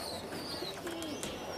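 Faint, low cooing from flying and breeding pigeons fed together, a few soft coos heard from nearby over quiet background.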